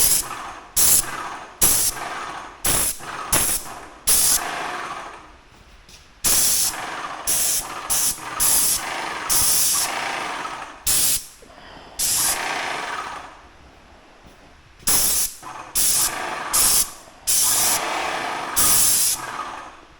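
A Magnum X5 airless paint sprayer hissing in long, loud bursts of spray separated by short pauses, repeating steadily and close by.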